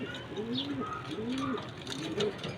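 Domestic pigeons cooing in repeated low, rolling calls, several overlapping at close range, with faint background noise and occasional higher chirps.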